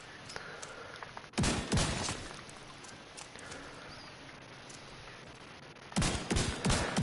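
A shotgun in The Division 2 fires in loud bursts near the start and again near the end, with quieter clatter and ambient game noise between shots.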